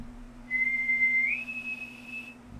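A voice imitates a ship bosun's night whistle at sea: one sustained whistled tone that rises partway through and holds for about two seconds, close and clear over a low steady hum.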